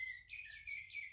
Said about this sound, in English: And Blackbird flew in.